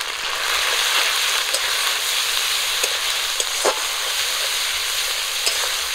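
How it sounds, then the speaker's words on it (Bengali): Dried red chilli paste, cumin paste, turmeric, salt and chilli powder fry in a pan as part of an egg and cabbage dish, giving a steady, close sizzle with faint crackles and occasional stirring clinks throughout. "সব কিছু একটু ভেজে নেব।"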